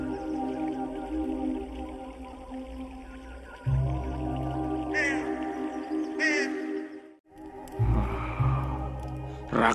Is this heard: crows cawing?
yes